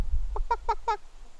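Four short, nasal honking clucks in quick even succession from a bird close by, then quiet.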